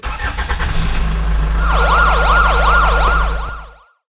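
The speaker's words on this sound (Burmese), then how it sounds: "လူနာတင်ကားသည်ရေဖြည့်ပြီးထွက်သွားလေတော့၏" An ambulance pulls away after refilling with water, its siren wailing in loud rising and falling sweeps over a heavy engine rumble, then cutting off abruptly as the vehicle departs.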